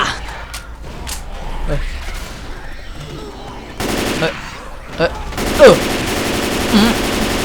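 Gunfire rattles in Left 4 Dead 2, with repeated bursts of automatic shots over a zombie-survival game scene and a player talking excitedly over the shooting.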